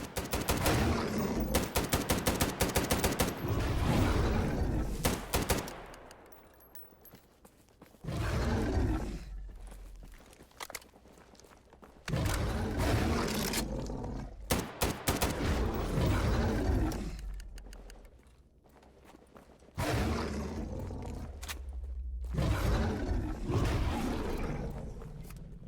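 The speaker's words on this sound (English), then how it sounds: "two chimeras in the distance, I load some slugs and try to pick one off before they get to me" Heavy shotgun blasts in S.T.A.L.K.E.R. GAMMA, slugs fired at two roaring chimeras, come in loud bursts separated by short lulls, with mechanical reload clicks and growling roars mixed into the dense, close action.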